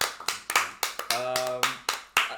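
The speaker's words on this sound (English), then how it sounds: "Clapping." Several people clap in uneven bursts of sharp claps during a casual podcast recording, with a short stretch of tonal sound in the middle.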